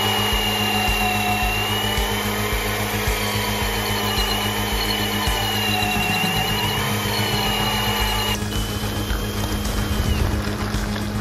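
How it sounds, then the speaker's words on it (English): A mini BMX bike driven by a Milwaukee cordless drill instead of an engine, spinning its rear wheel in a burnout. A continuous high, whining electric motor drone with grinding rasp runs up close throughout and turns rougher near the end. "It's all powered by a Milwaukee drill."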